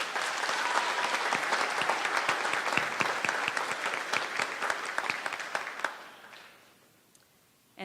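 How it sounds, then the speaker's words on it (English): Sustained audience applause at a high school graduation ceremony, dense steady clapping from a large crowd for about six seconds before fading out to near silence. "Let's give her another round of applause."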